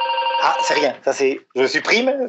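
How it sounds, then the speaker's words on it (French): A telephone rings with steady tonal bursts while someone speaks French over it, the ringing fading as his talk continues. "c'est le téléphone qui se met à sonner."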